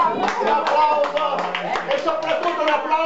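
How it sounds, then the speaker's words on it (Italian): A group of people clapping in a room, with close individual hand claps in an uneven rhythm and voices talking and calling out over them. "Un applauso, chi è che ci è riuscito?"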